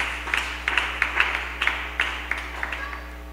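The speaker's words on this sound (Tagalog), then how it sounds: "Palapakan po natin ng malakas na palakpak ang ating Panginoon." A church congregation at a JMCIM worship service claps in loose rhythmic bursts, the claps fairly close and sharp over a steady low electrical hum, with no talking.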